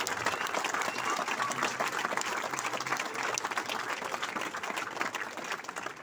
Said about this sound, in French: Maintenant, ceux qu'il faut applaudir, c'est vous.